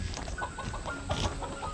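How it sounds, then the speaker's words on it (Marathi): Several chickens cluck in quick, uneven bursts, with a frizzle-feathered rooster among them, at a poultry farm in the Konkan. The sound is close and steady, and no one speaks. "उलट्या पिसांचा कोंबडा"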